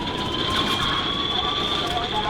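A helicopter in the video game GTA V gives a steady, loud whirring drone with a constant high whine, unbroken for the whole stretch.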